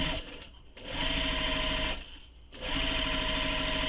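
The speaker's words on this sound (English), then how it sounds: "So you're just going to sew the sides using the seam allowance given in the pattern" Sewing machine stitching the side seams of a shoulder bag, running in two steady bursts with a short pause between, a dense continuous whir close by with no voices.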